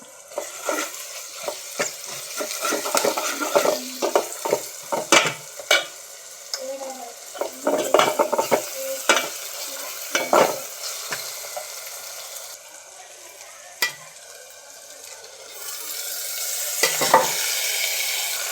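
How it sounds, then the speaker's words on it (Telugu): Prawns frying in hot oil in a pan for a fenugreek-leaf, prawn and tomato curry, with a steady sizzle broken by frequent sharp crackles and stirring scrapes; close and fairly loud, with no talking. "ఈ రొయ్యలు నూనెలా గోలాలి ఇది మంచిగా నూనెలో గోలాలి"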